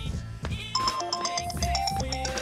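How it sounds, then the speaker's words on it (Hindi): A phone ringtone plays a short repeating melody of bright electronic tones in a Hindi-dubbed film scene, sounding over a background music bed. "अरे डार्लिंग का फोन आ गया।"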